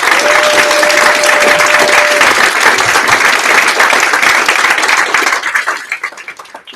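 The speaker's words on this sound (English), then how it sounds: "please give them a round of applause for putting this together." Loud, dense audience applause at a hackathon's final presentations, a steady wash of many hands clapping that thins out and fades away over the last second or so.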